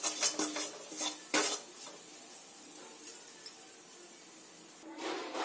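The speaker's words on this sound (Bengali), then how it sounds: "চা চামচে 2 চামচ বেসন এই ঘিয়ের মধ্যে দিয়ে দিলাম। বেসনটা খুব ভালো করে ভেজে নিতে হবে।" Gram flour (besan) is stirred in hot ghee in a pan, with quiet scraping and clinks of a spoon against the pan at irregular intervals over a faint low background.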